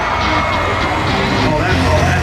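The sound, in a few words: crowd cheering weakly at school bus figure 8 race event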